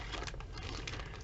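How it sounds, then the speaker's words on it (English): A plastic bag crinkles and rustles close by, a dense continuous crackle of soft crumpling lasting about a second, fairly quiet and without talk. "that's just a plastic bag."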